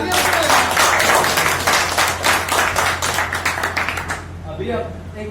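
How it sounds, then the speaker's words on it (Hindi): Applause from a community gathering audience of the Khatik society, dense clapping that rolls on loudly and then thins and fades out toward the end, with a constant low hum underneath. "एक बार जोरदार तालियों"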